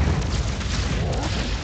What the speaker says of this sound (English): There goes that finishing blow there on Strit from Dagon. Finishing blow so powerful.